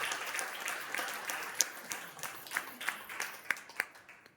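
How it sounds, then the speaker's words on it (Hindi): Students in a classroom clap, with a few scattered claps building into a run of sharp, fairly distinct claps that rise above a murmuring room. "ताली दो बच्चों."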